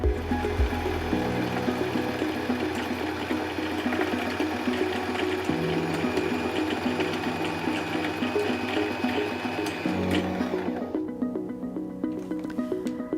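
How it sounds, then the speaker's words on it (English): Singer M2105 sewing machine winding a bobbin, a quiet continuous mechanical whir with a steady rhythmic hum, nearby and alone, that changes tone and thins out near the end as the winding stops. "you can continue winding because the bobbin will stop automatically when it's full"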